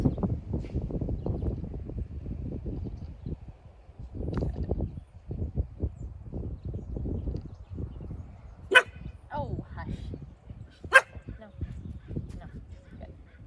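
A doodle puppy barks in short, sharp bursts, a couple loud and high, while a person talks nearby through most of it.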